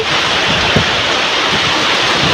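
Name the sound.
cold wind blowing outdoors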